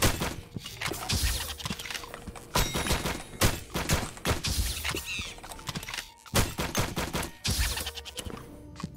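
Rapid gunfire rattles through the co-op shooter STUFFED, dense bursts of close shots with clanks and impacts in quick irregular runs, broken by brief reload pauses.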